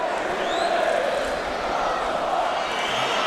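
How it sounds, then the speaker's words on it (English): Football crowd in the North Stand at a Hull City versus Millwall Championship match applauding the goalkeeper, a steady, diffuse wash of clapping and murmur heard from a distance, continuous and even throughout. "the North Stand applaud him gallantly"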